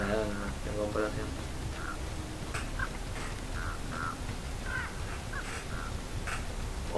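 Crows caw repeatedly in the Dead by Daylight video game, a run of harsh calls at mid distance while a person talks over them.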